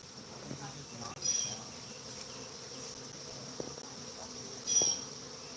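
A honeybee swarm that split from a hive, a thin continuous high buzzing drone with a few louder passes of bees flying close by, heard outdoors in the open.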